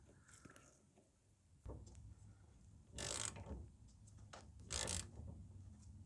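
A 30mm wrench loosening the power steering line nut on a Mercedes W210 E-Class, faint metallic clicks followed by two short, louder grinding bursts of the nut turning, quiet and close with no speech.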